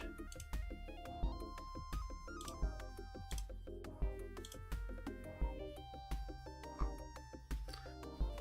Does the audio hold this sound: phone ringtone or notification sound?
yes